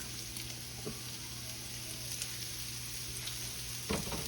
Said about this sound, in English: now we're going to add our onions to this. Little white onions in there.